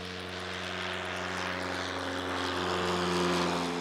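A propeller airplane spraying biological insecticide (BTI) for mosquito control over the Rhône delta wetlands, its droning engine steady and rising slightly in loudness as it passes, with no voices.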